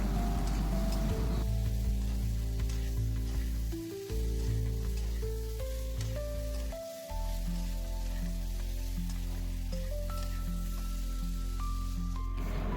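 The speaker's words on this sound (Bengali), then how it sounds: "ওয়ান স্পুন নুন আর ওয়ান স্পুন হলুদ পাউডার দিয়ে আলুটাকে আমি প্রথমে ফ্রাই করে নেব" Potatoes frying in oil with salt and turmeric powder: a steady, close sizzle lasting throughout, under tonal background music.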